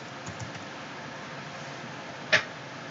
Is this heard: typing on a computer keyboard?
yes